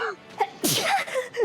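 A single sharp sneeze bursts out near the microphone, preceded by a quick inhale, in an otherwise quiet room.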